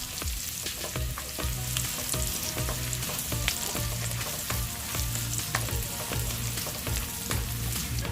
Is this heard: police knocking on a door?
no